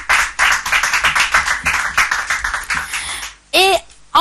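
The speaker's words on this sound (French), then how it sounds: "On va quand même applaudir pour Joyce." Audience applause for a contestant named Joyce, lively clapping mixed with chatter and laughter in a room, closely miked, with a brief louder voice near the end.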